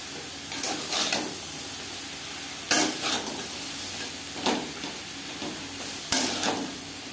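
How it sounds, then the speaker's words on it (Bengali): Eggplant pieces are stirred into already-fried bitter gourd and drumsticks in a pan. A soft sizzle runs under the whole clip, and several louder spatula scrapes and clacks come at irregular intervals. "বেগুন বেশ ভালো করে মিক্স করে দেবো।"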